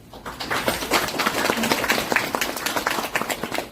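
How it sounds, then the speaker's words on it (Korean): A crowd at a People Power Party Jungnang-eul party council meeting in Korea claps steadily to welcome party officials. The applause stays dense and even for several seconds, with a faint voice underneath. "큰 박수로 환영해 주시면 고맙겠고요"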